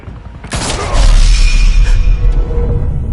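Gunfire in a Batman video game: a burst of shots and a loud booming impact with a whoosh, followed by a sustained low rumble, close and heavy.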